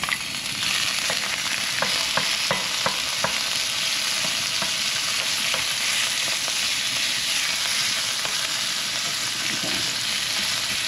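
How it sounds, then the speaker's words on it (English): Bacon fries in olive oil in a hot cast iron skillet, giving a steady close sizzle dotted with sharp crackles and pops and no talking. "And I am going to add my bacon to this hot"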